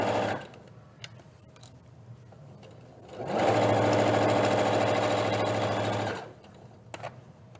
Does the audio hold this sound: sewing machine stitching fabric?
yes